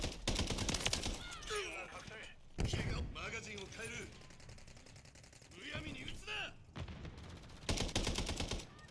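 Battle rifle gunfire in Call of Duty: Modern Warfare, delivered in loud repeated bursts and single cracks across the whole stretch, mixed with game sound effects and a talking voice.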